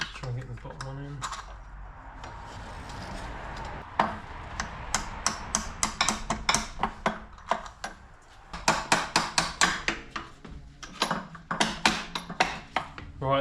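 Metallic clicks and ratcheting taps as a bolt is worked into the alternator on a BMW E36 328i coupe, sparse at first then a rapid run of close, sharp ticks, with faint talk at the start.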